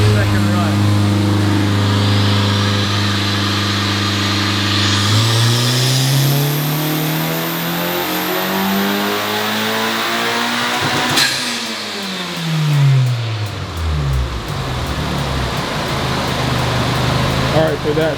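A 2024 Honda Civic Type R engine revs on a dyno run, droning low and then climbing steadily in pitch through the gears, loud and close. It ends with a sharp shift and falling revs, and talk is heard underneath.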